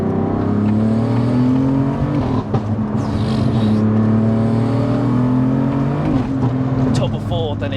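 A tuned 850bhp BMW F80 M3 accelerating hard through the gears with wheelspin, a loud, close, sustained engine drone rising in pitch with shifts, heard from inside the car while people talk.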